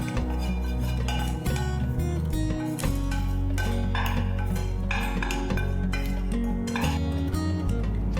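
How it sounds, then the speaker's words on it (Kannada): A spoon mixes fried ingredients into paddu batter in a bowl, producing repeated scraping stirs and light clinks against the bowl under steady background music, with no talking. "ಇವಾಗ ಇದನ್ನ ನಾನು ಹಿಟ್ಟಿಗೆ ಮಿಕ್ಸ್ ಮಾಡ್ಕೊಳ್ತಾ ಇದ್ದೀನಿ"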